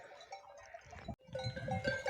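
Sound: sheep on a mountain pasture

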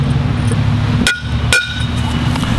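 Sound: tapping hammer to score a concrete brick

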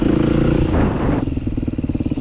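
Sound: motorcycle engine

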